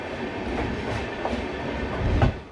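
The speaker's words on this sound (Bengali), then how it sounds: "তো আমরা এসে পৌঁছালাম আমাদের ট্রেন উত্তরবঙ্গ এক্সপ্রেসের পঞ্চম হল্ট বোলপুর শান্তিনিকেতন রেলওয়ে স্টেশনে।" The Uttarbanga Express pulls into Bolpur Shantiniketan station with a heavy rolling rumble. Rhythmic clickety-clack wheel beats sound over the rails, loud and close, with no talk.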